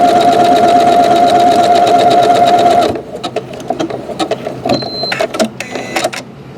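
A Janome sewing machine stitches a buttonhole with a steady, loud, rapid mechanical whir for about three seconds, then stops, followed by clicks and handling noises close by.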